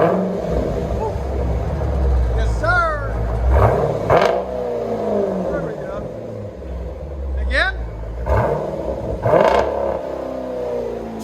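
A Jeep Grand Cherokee SRT with a 6.4L HEMI V8 and aftermarket exhaust revs in two rising roaring bursts over a low idling rumble, while people talk throughout.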